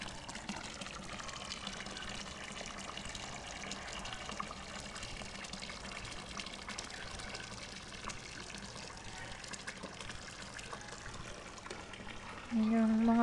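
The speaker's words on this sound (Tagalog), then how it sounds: "tuloy pa rin yung paglagay po nila Kuya Al ng tubig dito" Water pouring steadily from a pipe into a grotto pond with koi fish, a constant close splashing rush that stays level throughout, with a brief tonal sound near the end.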